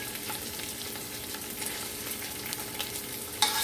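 Meat goes back into the hot pot for Haitian legume, giving a steady, even sizzle with a sudden louder burst of frying near the end; no one speaks.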